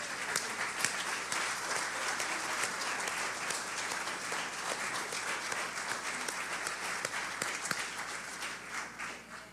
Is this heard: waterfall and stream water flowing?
no